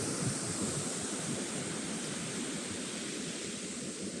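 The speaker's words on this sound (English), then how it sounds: "Maybe I should turn this way so you can see the ocean behind my back" Ocean surf rolls behind someone standing at the seaside, a steady broad rush of waves mixed with wind buffeting the microphone, continuous and fairly faint with no talking.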